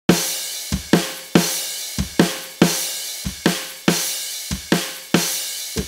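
EQ'd drum overhead track from a song, emphasising the cymbals: a steady run of about a dozen crisp hits, each with a bright, splashy metallic wash decaying between strikes, close and fairly loud.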